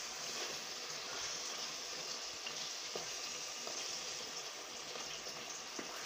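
Beef kadhai frying in ghee in a wok-style kadhai, a quiet steady sizzle and crackle with occasional faint pops and soft stirring knocks, close by with no voices.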